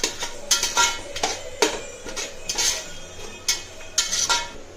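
A spoon scrapes and knocks against a cooking pot as ginger paste and chicken are stirred for gongura chicken biryani, irregular metallic clinks and scrapes arriving every half second or so, close and clear without talk.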